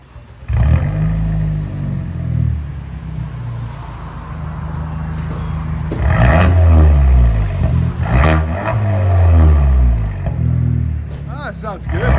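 A 2016 Kia Optima SXL Turbo with a NETAM NTR race muffler idles with a low rumble, then rises in two loud, throaty revs that fall back between them, heard close up.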